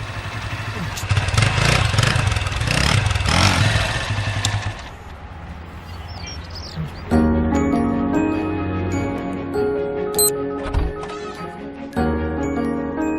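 An old, battered scooter engine runs with a rough mid-pitched drone and clatter for about five seconds. It then cuts away to music with tinkling accents.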